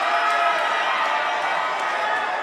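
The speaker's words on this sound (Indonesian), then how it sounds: "Boleh apresiasi tepuk tangan untuk paslon nomor urut 2." Crowd applause and cheering from a live audience at a West Java gubernatorial candidate debate, a steady continuous wash of clapping and voices filling the hall without pause.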